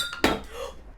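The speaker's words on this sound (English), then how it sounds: "That was the sound of this entire drink falling over." A drink glass tips over with a sudden sharp clink and clatter, followed by a short wet splash and rattle that quickly fades, heard close up in a quiet room.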